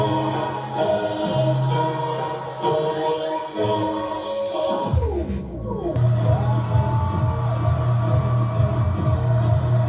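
A huge crowd at a concert screams and cheers loudly and continuously, with the roar surging as the lights go out, under booming music and sweeping effects.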